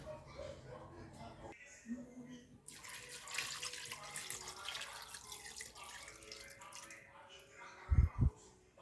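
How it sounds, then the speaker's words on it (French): Water runs from a tap into a cooking pot for cassava leaf sauce with mutton, a soft rushing splash lasting a few seconds, near and fairly quiet, followed by a couple of light knocks at the end. "on va rajouter de l'eau et on va mettre au feu"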